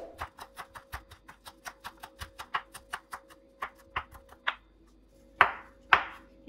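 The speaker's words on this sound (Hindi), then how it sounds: "हरे धनिया को भी बिल्कुल ब्रीक ब्रीक हम काटेंगे" A knife chops green coriander finely on a board in a quick, steady run of sharp close taps, ending with a few louder, spaced strikes.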